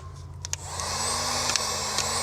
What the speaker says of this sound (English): that heat gun's gonna melt that solder and seal the wires on each end